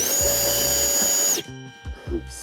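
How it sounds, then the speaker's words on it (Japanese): Chinese-made 21V cordless battery blower running loud and close with a high whine and rushing air, then cutting off abruptly, followed by quiet low voiced sounds. "ブロワーすごいのがありまして、それがこちらなんですけど"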